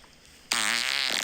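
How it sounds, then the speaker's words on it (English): A fart recording played back from an iPhone voice memo: after a half-second of quiet, one loud, buzzy, tonal fart rumbles for about half a second and then trails off into a softer sputter. "I've been voice note recording on my iPhone all of my farts"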